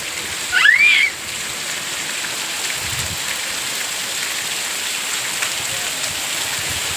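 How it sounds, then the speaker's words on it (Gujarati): Steady, dense hiss of rain falling continuously, with a brief high chirp near the start; no voices. "વરસાદ બહુ આવે છે"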